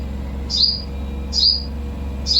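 Sparrows give three sharp, bright chirps at an even pace, loud and close, over a steady low hum.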